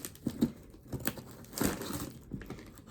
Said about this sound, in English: I'm just going to cut this box here